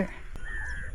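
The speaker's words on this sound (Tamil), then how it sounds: "காகமும் அங்கங்கே சுற்றுது" A single crow caws faintly in the distance over quiet outdoor background noise in a paddy field.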